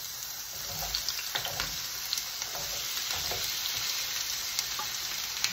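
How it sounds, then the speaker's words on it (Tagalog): Onions fry in a pan until brown, giving a constant, moderately loud sizzle with occasional soft clicks from stirring. "unahin muna natin ang onions. Ipapry natin siya hanggang mag-brown."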